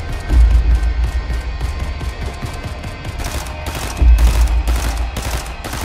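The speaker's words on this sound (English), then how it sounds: "What on earth is all the shooting about?" Gunfire in the video game Fortnite rattles in rapid, continuous bursts, loud and dense, with heavier thumping volleys near the start and again later.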